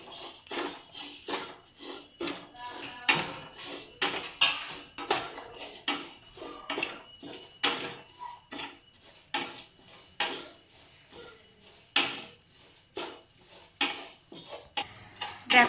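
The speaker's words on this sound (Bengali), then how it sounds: "এবার আমি ডালটাকে হালকা করে ভেজে নেব" Moong dal being lightly fried in a hot kadai for Bengali dal, with a rhythmic run of spatula scrapes and metal clinks against the pan over a faint sizzle, close and steady throughout.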